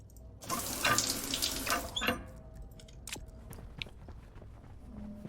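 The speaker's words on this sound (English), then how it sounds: "That was a quick shower." Water running from a shower in the game Stationeers, a hissing splashy stream lasting about two seconds before cutting off, followed by faint clicks and drips in a quiet room.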